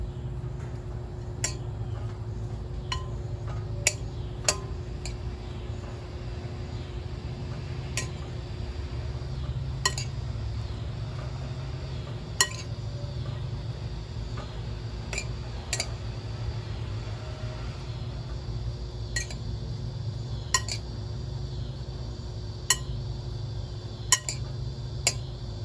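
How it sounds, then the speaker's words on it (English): Broccoli being tossed with oil and seasonings in a bowl, with light clinks and taps of utensils against the dish recurring at irregular intervals over a steady low background hum. "I'm going to now toss it so it's coated with oil and seasonings"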